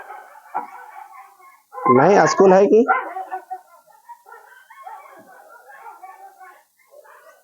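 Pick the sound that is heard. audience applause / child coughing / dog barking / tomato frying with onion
dog barking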